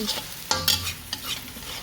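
Glass noodles (suun goreng) are stir-fried in a pan, giving a steady sizzle broken by several scraping stirs of the spatula, close and moderately loud with no talk.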